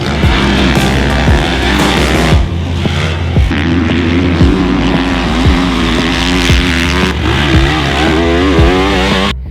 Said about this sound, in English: Today, we're getting our first chance to ride the 2022 Kawasaki